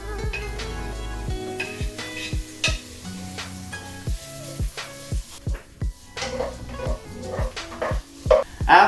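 Onions go into garlic already frying in a pan for Korean braised potatoes, giving a close crackling sizzle broken by repeated sharp knocks of a utensil against the pan as the mix is stirred.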